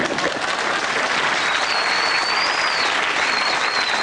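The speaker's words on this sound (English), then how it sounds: "Stop applauding now." Continuous loud applause from a TV panel-show studio audience carries on at full strength for the whole stretch, with a faint whistle-like tone riding over the clapping partway through.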